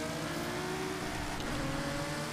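A Nissan GT-R Nismo 2020 engine roars in the racing game Forza Horizon 5, a continuous loud revving drone with a steady pitch for a couple of seconds, with no speech.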